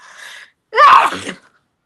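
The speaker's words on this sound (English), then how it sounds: "hang on a second, I gotta sneeze" A single loud, close sneeze, a short sharp inhale followed by a burst of breath, then silence.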